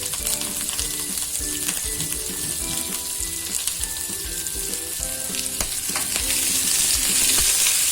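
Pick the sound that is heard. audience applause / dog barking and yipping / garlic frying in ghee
garlic frying in ghee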